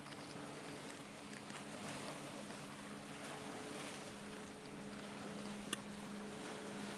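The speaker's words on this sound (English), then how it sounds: "It's gonna be a bit loud here because the wakes and the other boats," Boat traffic and wakes on Lake Chesdin make a steady, broad wash of engine rumble and churning water, with a faint low hum underneath and wind buffeting the microphone throughout.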